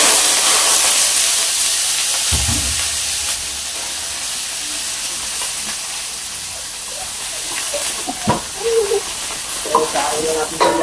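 Chopped vegetables for Filipino pinakbet guisado hiss and sizzle steadily in hot cooking oil in a pan, a broad crackling wash with occasional stirring clatters and a few soft clicks near the end.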